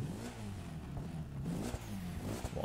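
A Mitsubishi Eclipse's engine in The Crew 2 catches and revs, a steady growling tone that rises and falls in pitch, fairly loud and alone.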